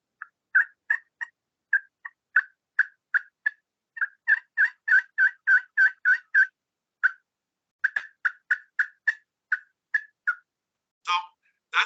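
Wild turkey gobbles and yelps imitated on a chalkboard-style call worked with a wooden striker, sounding as a long run of sharp, close, rhythmic clucks in quick bursts with brief pauses, ending in a couple of raspier, louder notes.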